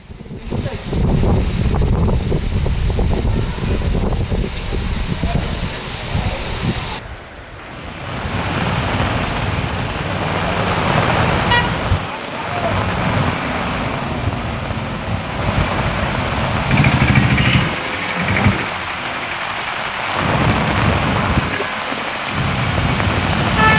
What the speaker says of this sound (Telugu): ఈదురుగాలులతో కూడిన భారీ వాన పడింది